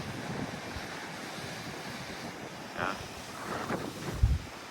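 Ocean waves rush and roll steadily against a lava rock coastline at Aruba's Natural Bridge, with strong wind buffeting the microphone, a heavier crash rising near the end.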